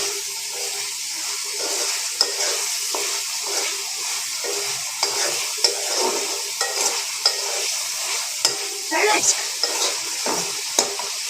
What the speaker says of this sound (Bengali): শুটকিটাও ভালো করে কষাবো